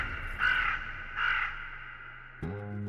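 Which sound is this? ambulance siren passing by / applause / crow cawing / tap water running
crow cawing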